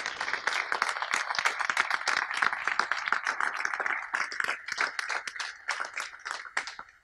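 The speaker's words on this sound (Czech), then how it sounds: "poprosím vás o potlesk pro ně" A crowd claps for presenters during a guided architecture tour of Smíchov City in Prague, with steady, dense applause that carries on for the full seven seconds and tapers slightly near the end.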